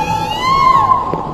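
A crowd at the Ateker Cultural Festival greets the Vice President with shrill, sustained cheers and high-pitched calls that waver together in a short, loud burst.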